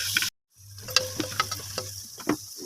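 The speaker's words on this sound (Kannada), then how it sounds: "ಟೊಮೊಟೊನ 5 ನಿಮಿಷ ಫ್ರೈ ಮಾಡಬೇಕು ಚೆನ್ನಾಗಿ" Tomatoes frying in a pan with a steady low sizzle, broken by scattered close clicks and scrapes of stirring, with no talk.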